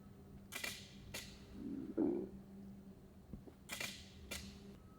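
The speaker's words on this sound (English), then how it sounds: "Let's snap off a few more just so I can get a cover shot." Camera shutter clicks at a photo shoot for a flapper-girl themed cover shot, a few sharp clicks spaced apart, one pair early and another pair near the end, fairly close over quiet room tone.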